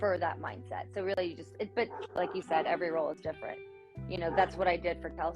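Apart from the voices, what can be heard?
No everyday noise stands out behind the speech.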